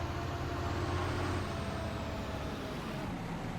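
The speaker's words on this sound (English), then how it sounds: "Oh, this has a nice throaty rumble to it." The Krone demo tractor's engine in Farming Simulator 19 rumbles continuously, a steady throaty drone with a faint rising whine, sustained at even loudness with no voices.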